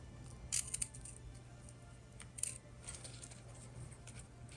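Scissors snip through the corner of a fabric cosmetic bag in two short, crisp cuts, close and quiet against a faint steady hum.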